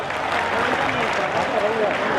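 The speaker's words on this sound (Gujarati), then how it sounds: "એકવાર જોરદાર તાળીઓ પાડો" A large crowd at a mass wedding ceremony applauds in a steady, even wash of clapping while a voice carries on talking over it.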